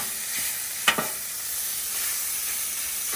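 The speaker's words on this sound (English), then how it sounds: "We got our hamburger down. Our grill is hot" A hamburger patty sizzles steadily on a hot grill, a constant crackling hiss with a couple of sharp taps of a utensil.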